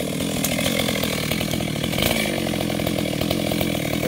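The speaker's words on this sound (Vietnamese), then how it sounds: "chuẩn bị cưa gốc nè" A GZ4350 chainsaw cuts into the base of a large eucalyptus tree, a loud, continuous close-up engine whine with a pulsing chain buzz that holds steady throughout.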